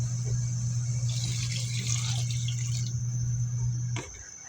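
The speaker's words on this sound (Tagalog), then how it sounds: "Lagyan natin ng tubig." Water runs into a cooking pot for pork nilaga with vegetables, a steady pouring rush that fills the clip and stops abruptly near the end, with a low hum beneath.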